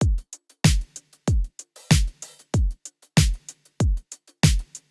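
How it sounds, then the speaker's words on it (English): A live hi-hat loop from the Oliver's Power Tools 3 pack ticks in quick, bright steady hits over a punchy, booming kick in a disco-pop beat, looping evenly without any voices. "I brought in the live hi-hat loop"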